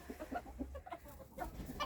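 Hens clucking at their nests with a rooster among them, several short throaty clucks and murmurs overlapping close by in a quiet coop.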